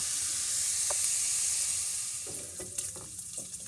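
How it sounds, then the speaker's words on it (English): Small-cut bacon pieces fry in a pan with a bright, steady crackling sizzle, close by, with a few light utensil taps and scrapes toward the end. "Okay, so my bacon is almost done."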